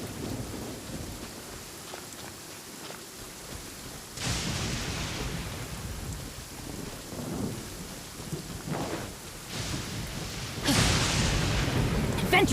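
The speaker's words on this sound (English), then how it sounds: "It always rains when I go on an adventure." Steady rain falls in Genshin Impact gameplay on a Poco X3 Pro, with rolling thunder swelling in loud bursts over the downpour; faint voices sit beneath.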